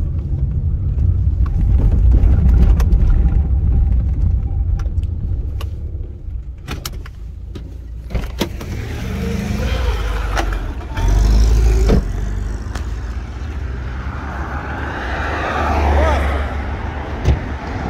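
Car engine rumbling steadily as it pulls up alongside a truck on the road, with road noise and occasional knocks over a low drone.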